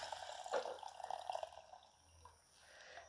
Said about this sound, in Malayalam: ഇനി നമുക്കേ പുളി പിഴിഞ്ഞ് അരിച്ചു വെച്ചിരിക്കുകയാണ് കേട്ടോ അതൊന്ന് ഒഴിച്ചു കൊടുക്കുക